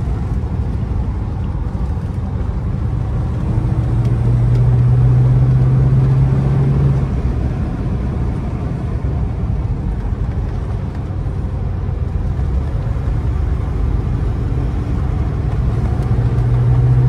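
A Mercedes-Benz 300 SEL 6.3 W109 old-timer sedan on the move, a steady low engine drone with road rumble heard from inside the cabin, the revs rising briefly now and then.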